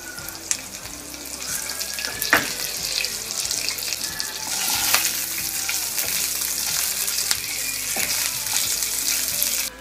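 Cumin, a green chili and curry leaves sizzle loudly in hot oil, a close, continuous crackling fry that swells to a stronger burst about halfway through, with a few clinks and scrapes of stirring.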